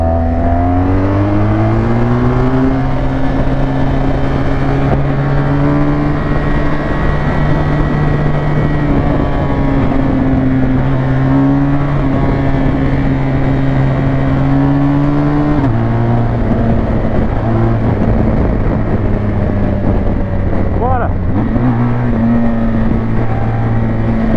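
A motorcycle accelerates hard at high speed toward 200 km/h, its loud, steady engine drone filling the sound close by, with the pitch dropping at two gear changes partway through.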